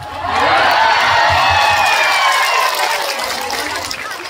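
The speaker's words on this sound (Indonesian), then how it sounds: "Berikan tepuk tangan, boleh." Audience applause at a religious lecture, a broad steady wash of clapping from a crowd that swells quickly, holds loud for several seconds, then slowly thins out, with no talk over it.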